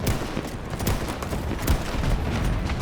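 Loud, rapid gunfire from a gun in Battlefield 2042, a dense run of close shots crackling continuously with booming low impacts.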